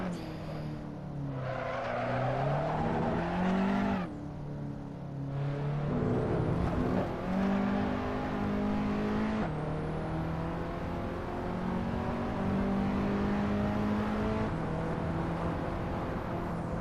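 A race car in Assetto Corsa roars through repeated accelerations and gear shifts, its engine pitch climbing and dropping, with tire squeal and skidding under the steady, close-up engine drone.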